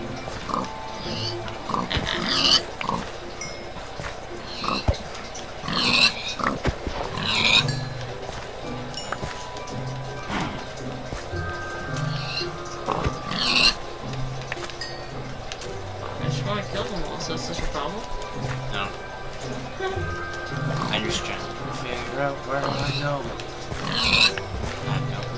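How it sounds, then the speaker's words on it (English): Pigs in a Minecraft world grunt and oink in short bursts recurring every few seconds, mixed with game sounds and heard under ongoing conversation between players. "Look at all the pigs!"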